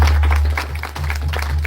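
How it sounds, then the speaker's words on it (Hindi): An audience at a Hindi spiritual gathering applauds to welcome the chief guest onto the stage, a short, loud burst of crowd clapping over a steady low hum. "जोरदार ताली से स्वागत।"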